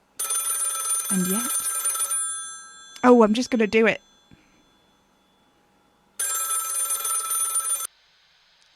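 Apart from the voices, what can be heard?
telephone ringing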